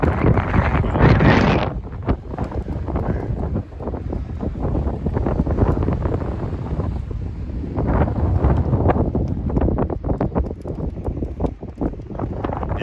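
Strong coastal wind on Scotland's north coast roars and buffets the microphone continuously, loud and gusting throughout with no other clear sounds.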